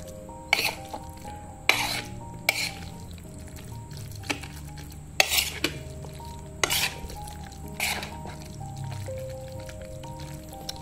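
Instant spicy garlic aglio olio pasta being stirred and tossed to mix in its seasoning, with repeated clinks and scrapes of a utensil against the bowl or pan and a faint background sizzle, no talking.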